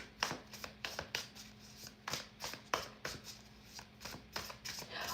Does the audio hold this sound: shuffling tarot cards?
yes